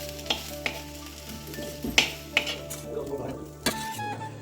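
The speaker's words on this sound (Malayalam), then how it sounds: "ഇനിയിപ്പോ നമ്മൾ നേരത്തെ എടുത്ത മറ്റേ തേങ്ങയല്ലേ, അതും കൂടെ ഇട്ടാ ഇനി നമുക്ക് മിക്സ് ചെയ്യണം" A spoon stirs grated coconut and drumstick leaves in a pan, with a low sizzle and several sharp scrapes and clinks against the metal, close by.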